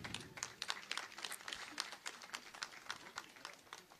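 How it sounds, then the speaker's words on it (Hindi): An audience at a police battalion passing-out parade ceremony claps steadily in an even, continuous patter of applause, fairly distant and moderately loud, with no talk over it. "तालियां हो आपकी तरफ से"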